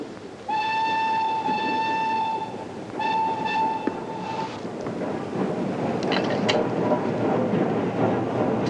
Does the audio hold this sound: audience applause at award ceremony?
no